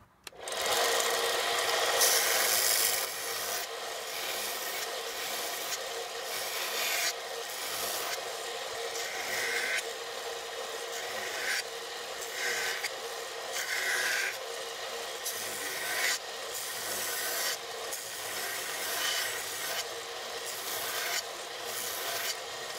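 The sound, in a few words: hand sanding a knife blade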